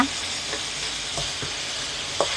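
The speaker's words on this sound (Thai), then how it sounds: "อันนี้แม่เนียนจะผัดแบบแห้งๆเลยนะคะ" Minced pork stir-fried dry with holy basil in a pan gives a continuous close sizzle, with occasional soft scrapes of a spatula tossing the meat.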